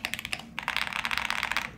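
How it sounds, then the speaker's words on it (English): Rapid, clacky keystrokes on a custom Jer80S mechanical keyboard with an exploded F-row layout, a short burst, a brief pause, then a denser continuous run of typing, close and fairly quiet with no talk. "It's funny, Alex just gets the ear-to-ear smile when he starts typing"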